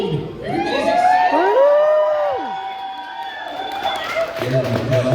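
An excited crowd at an anime convention cheers and shouts loudly and close, with whoops, applause and overlapping voices sustained throughout.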